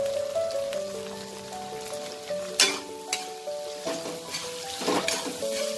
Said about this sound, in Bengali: এবার আমি 2টো টমেটো দিয়ে দেবো